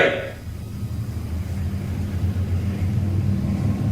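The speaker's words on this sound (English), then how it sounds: "That was a motorcycle." A motorcycle passes outside the Huguenot House in New England, heard as a steady low rumble that swells gently and holds through the whole stretch, with no talking.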